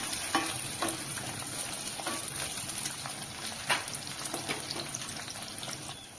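Five peeled garlic cloves fry and get stirred in a pan for a Tamil sundakkai kuzhambu, giving a steady close hiss of sizzling oil broken by scraping spoon strokes.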